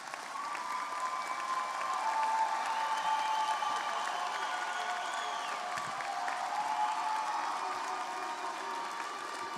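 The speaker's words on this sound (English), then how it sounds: "if you could stand and turn and give it applause to those who have been so supportive of you" Graduates at a university undergraduate commencement give sustained applause to their supporters, a steady, fairly distant wash of clapping from a large crowd that lasts the whole stretch without letting up.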